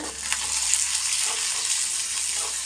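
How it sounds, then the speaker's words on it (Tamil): Sliced onions sauté with a pinch of salt in a hot pan for egg podimas, giving a steady, close hiss of sizzling oil with a few faint stirring touches throughout. "வெங்காயம் நல்லா வதங்கட்டும்"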